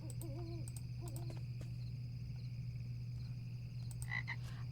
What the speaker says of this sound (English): I think we can just click on the frogs